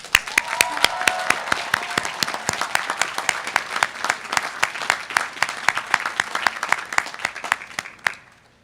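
Applause at the 2017 Emory Law School commencement ceremony, with a large crowd clapping steadily with sharp individual claps standing out, sustained for about eight seconds before stopping abruptly.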